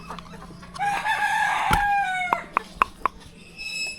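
Rooster crowing loudly up close in a village yard, followed by a few sharp, separate clucks from the chickens, with no one talking.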